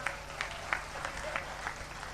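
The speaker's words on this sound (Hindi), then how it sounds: "आपने मेरे स्वागत में जो घनघोर तालियां बजाई" Clapping from an audience welcoming a performer at a Hindi poetry stage event, faint and fairly distant, a steady patter with a few sharper claps standing out.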